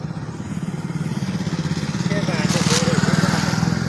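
Motorcycle engines rumble steadily on a foggy village road by a canal, growing slightly louder as they pass, while someone talks over them.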